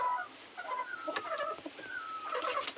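A chicken calls out nearby in a quiet yard, with a few short warbling clucks and gobble-like cries in uneven bursts and no voices over them.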